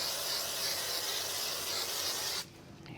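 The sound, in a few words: spraying spray glue onto silver card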